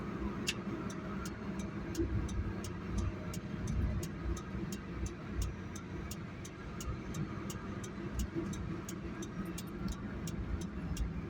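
A 1996 Honda Today small car drives along with a steady engine and road drone inside the cabin, while a quick regular ticking, like a turn signal, runs through most of the stretch.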